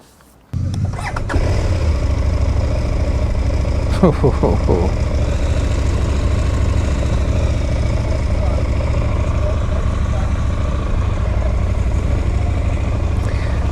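A KTM 990 Duke motorcycle engine starts up, then idles steadily and loudly for the rest of the clip, its low rumble continuous and close.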